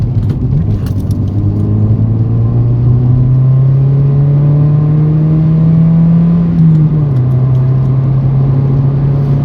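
A Toyota Yaris is driven hard along an empty stretch of the Old Sheppey Way in Kent. Its loud, close engine drone climbs steadily in pitch, then drops at a gear change before pulling again.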